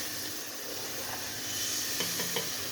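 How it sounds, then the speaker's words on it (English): Southern-style gravy roux sizzles quietly and continuously in a pan, with a few soft spoon clicks and scrapes of stirring near the end. "I'll stir that."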